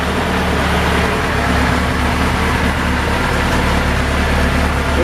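A first-generation Suzuki Hayabusa motorcycle engine idling steadily after a fuel pump replacement, having sat unused for a couple of years; a loud, constant low rumble with no change in pitch throughout.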